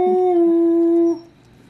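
A dog named Zoe lets out one long, loud, close howl that holds a steady pitch for about a second before cutting off into quiet.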